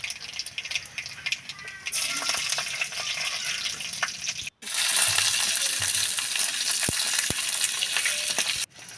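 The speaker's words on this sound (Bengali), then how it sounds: "সুন্দর করে এগুলোকে ভেজে নেব।" Chopped garlic and black cumin, with green and dried chillies, fry in oil, giving a steady close sizzle with stir scrapes that swells louder midway and continues throughout.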